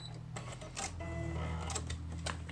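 Sewing machine stitching through fabric laid against the edge of a file folder, a steady mechanical whir with rhythmic needle clatter running throughout, close and moderately loud.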